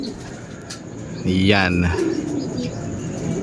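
A pigeon gives a short, clear coo at close range amid faint background chirps and ambient noise, while a voice speaks briefly.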